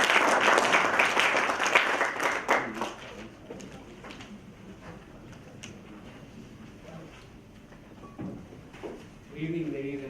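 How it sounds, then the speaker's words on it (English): Audience applauding a speaker before his first speech at a speaking club meeting, a burst of clapping that fades after a few seconds into quieter room sounds and scattered noise. "Can we have a huge round of applause for Anshul"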